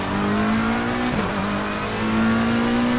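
Race car engine in Assetto Corsa Competizione at Suzuka, Laguna Seca or Silverstone, droning loud and steady with a brief dip and pitch shift as it shifts, then holding its revving tone.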